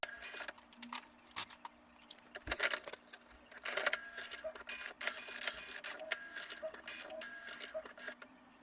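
An HP Officejet 6800-series printer runs after a printhead replacement, giving off a busy stream of clicks, ticks and whirring carriage movements, with sharp mechanical bursts scattered through the sound and a steady faint hum underneath.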